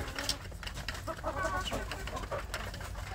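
Free-range village chicks cluck and peep continuously while eating, a dense, busy chatter of many small birds close by, with no talking.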